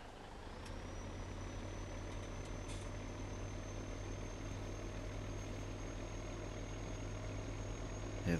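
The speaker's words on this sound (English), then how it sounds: "that distinctive engine of the Oshkosh truck" An Oshkosh truck engine running at steady idle, a low constant rumble with a faint high-pitched turbo whine held above it throughout.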